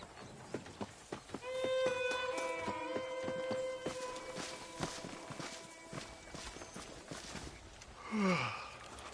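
Horse hooves clop in a steady riding rhythm in the Western video game Red Dead Redemption, moderately close, mixed with other game sounds and a brief whinny-like sweep near the end.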